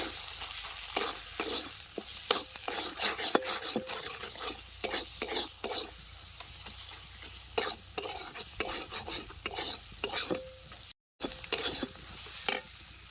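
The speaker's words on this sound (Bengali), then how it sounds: "এই সব কিছু দিয়ে একসাথে ভালো করে মশলাটা কষায় নেব" Spices with turmeric and chili powder fry in a pan, a steady sizzle broken by frequent sharp scrapes and clinks of a utensil stirring against the metal, close up and without voices.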